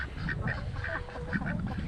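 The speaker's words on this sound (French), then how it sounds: "Et alors les canards?" Ducks quack in a short, close series of nasal calls in uneven rhythm over steady low background noise.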